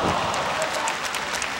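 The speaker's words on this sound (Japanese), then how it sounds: "このハイキックとともに日本武道館拍手が起きました。" Applause from the crowd at the Nippon Budokan fills a televised pro wrestling match, a steady wash of clapping heard at a distance that holds level from start to finish.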